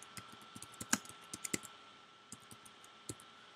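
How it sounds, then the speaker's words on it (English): Typing on a computer keyboard, quiet close key clicks in irregular short runs with brief gaps, no voices. "We're going to type in customer service."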